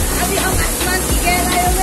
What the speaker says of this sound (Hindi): पीछे देखिए झरना भी है दोस्तों